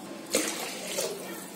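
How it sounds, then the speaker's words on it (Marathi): Water is poured from a cup into a pressure-cooker pot while making homemade kurkure, a faint, short splash followed by a gentle trickle, with no talking. "आता याच्यामध्ये मी पाच वाटे पाणी ओतते"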